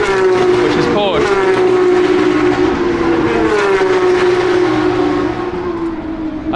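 Porsche race cars at Silverstone during the British Grand Prix weekend produce a loud, continuous high-pitched engine wail with gear changes, as several cars pass close by and hold full volume throughout.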